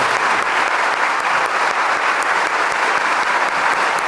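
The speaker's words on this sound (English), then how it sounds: "So let's all give them a round of applause." Sustained applause from an audience at an Elmhurst College evening event, a thick even wash of many hands clapping at a steady level for the whole stretch.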